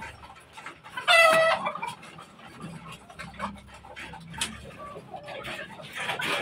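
Chickens on a rooftop farm cluck and squawk nearby, with one sharp, loud call early on followed by scattered softer clucks and rustling.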